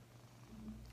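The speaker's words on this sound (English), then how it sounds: "I don't know if you can hear his purring, but oh my gosh, he's going to town right now." A fluffy pet cat purrs softly and steadily while held close, a low continuous rumble with no voices.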